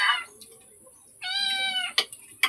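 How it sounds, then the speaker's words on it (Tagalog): A house cat gives a long, clear, close meow in the middle, preceded by a shorter mew and followed by a couple of brief sharp noises. "Nya magsali pa kag meow-meow diha"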